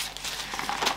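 A grey plastic shopping bag from a drugstore haul crinkles and rustles as it is handled up close, a brief dense burst of crackling that builds toward the end, with no talking.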